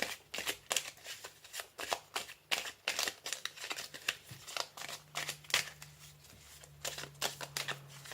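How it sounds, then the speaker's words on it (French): Fée Morgane oracle cards are shuffled by hand close by, a steady run of soft, rapid riffling flicks over about eight seconds with a faint low hum underneath. "On va finir avec l'oracle de la Fée Morgane."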